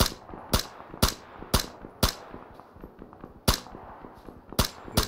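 Gunfire from the battle royale game PLAYERUNKNOWN'S BATTLEGROUNDS: sharp, loud single shots fired at irregular intervals, about seven cracks over a few seconds, each with a short ringing tail over a low background rumble.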